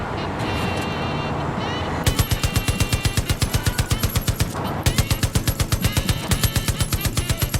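Rapid bursts from a massive vehicle-mounted gun in Far Cry 5, a loud steady automatic rhythm with a brief break near the middle before firing resumes, over engine rumble.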